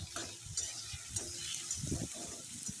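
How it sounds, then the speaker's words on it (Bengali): Onion, ginger and garlic frying in a little oil give a soft steady sizzle close by, with gentle stirring scrapes of a spoon through the pan. "কত কম তেল দিয়ে পেঁয়াজ আর আদা রসুন ওগুলো ভেজে নিচ্ছি"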